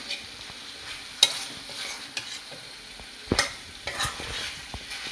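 Chicken leg roast sizzling softly in a pan, a low steady fry with a few sharp scrapes and clinks from stirring, close by, with no talking.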